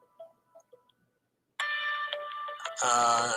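A phone rings after a quiet stretch, a bright electronic ringtone that starts suddenly and rises into a louder, fuller tone near the end, with faint sounds before it.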